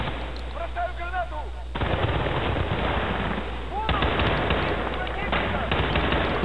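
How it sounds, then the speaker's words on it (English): Dense automatic and single gunfire rattles through a Battlefield Bad Company 2 firefight, loud and continuous with heavier bursts, while a voice talks over the shooting. "this is tends to be a bit of a firefight"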